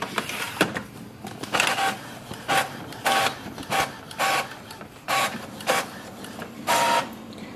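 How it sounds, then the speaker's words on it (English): An Epson EcoTank ET-3830 printer makes a copy, its mechanism running in a regular series of whirring bursts separated by short pauses, heard up close with no voices. "we can simply click on this icon and it will start the copy"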